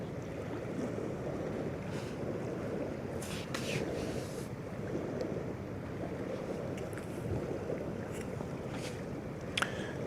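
Container ship MSC Sydney, built in 1999 with 5,608 TEU capacity and fitted with an exhaust scrubber, passes on the Westerschelde as a steady low rumble blended with wind and water wash, fairly faint and continuous throughout.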